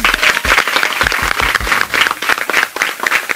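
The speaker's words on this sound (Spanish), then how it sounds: "Vamos a darle un aplauso" An audience claps steadily at a dance and culture event, loud and close, with individual hand claps standing out over a continuous dense wash of applause throughout.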